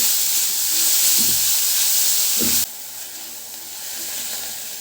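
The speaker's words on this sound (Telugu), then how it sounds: "ఇదంతా బాగా ఫ్రై చేసుకోవాలండి జస్ట్ ఒక టూ మినిట్స్ ఫ్రై చేస్తే సరిపోతుంది" A mixture with onions frying in a pan for a snack made from wheat flour gives a steady, fairly loud sizzle and hiss, with a couple of brief stirring knocks partway through. The hiss drops abruptly and then continues more softly.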